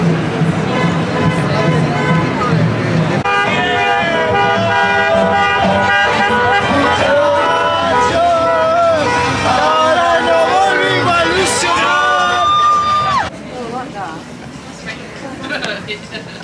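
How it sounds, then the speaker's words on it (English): A crowded New York City street bustles with busy background noise and passing traffic under steady, close talking, with music-like tones running through before the sound thins out near the end. "Now I'm squeezing through with crowds"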